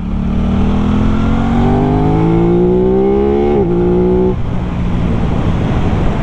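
Aprilia RS 660 sport motorcycle engine revving hard under acceleration, its pitch climbing steadily through a gear before a quick shift dip, loud and close with continuous wind roar.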